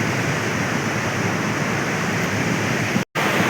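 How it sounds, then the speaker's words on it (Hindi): Water gushing at high speed out of a farm bypass pipe, a loud, continuous close roar of rushing water with one brief dropout near the end. "क्या ज़बरदस्त स्पीड से पानी निकल रहा है"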